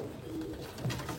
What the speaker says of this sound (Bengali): এই দেখো মালবাই পায়রা